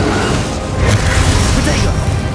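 A Confringo spell detonates in Hogwarts Legacy, a deep booming blast with crackling bursts rolling over a couple of seconds, loud and close, set against low game ambience.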